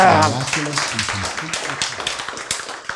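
A lecture audience breaks into a short burst of clapping right after a voice calls out, a quick patter of hand claps that softens over a few seconds.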